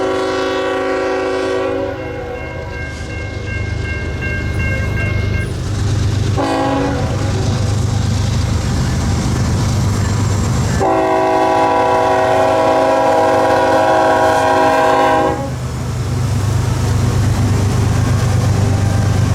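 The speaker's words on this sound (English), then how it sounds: "the northbound sand train is lined across Ramshaw Diamond" A northbound sand freight train hauled by Dash 8 locomotives rolls across Ramshaw Diamond, its loud chord horn blasting in long sustained calls with short gaps between them over a steady, close rumble of wheels and rail cars.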